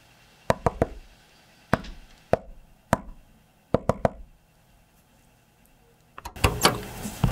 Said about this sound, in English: We're closed, unless you know the secret knock.